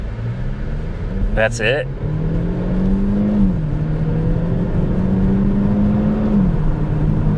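A turbocharged car in sport drive mode accelerates hard, its engine drone climbing steadily in pitch and easing back as gears change, close and loud, with a short spoken remark near the start.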